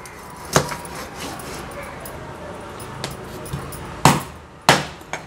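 A knife chopping fresh Indian mackerel into pieces on a board, several sharp separate thuds at uneven intervals, close and fairly loud against a quiet kitchen background.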